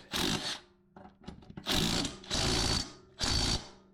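An impact wrench tightens the blade bolt on a Toro Recycler 21465 push mower to 30 foot-pounds, firing in four short, loud rattling bursts separated by brief pauses and small clicks.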